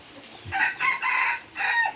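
A rooster crows, its call broken into several stretched bursts spread over about two seconds, heard fairly close with no talking over it.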